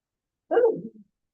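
A single short, sharp sneeze bursts out once, close and clear, then stops abruptly in silence.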